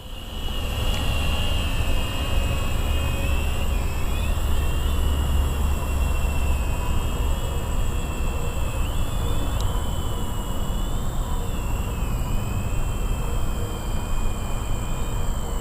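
A Syma X25W quadcopter drone flies outdoors over a field, its propellers giving a steady high whine that wavers slightly in pitch over a constant airy rush, close and continuous throughout.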